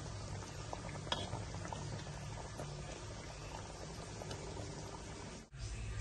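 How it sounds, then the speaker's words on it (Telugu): Mango fish pulusu, a tamarind fish stew, boils in a pot with a steady, continuous bubbling hiss, close and fairly quiet, broken by a brief dip near the end; no voices. "చేపల పులుసు ఉడికేటప్పుడు పచ్చిమిరపకాయలు కూడా వేయాలి"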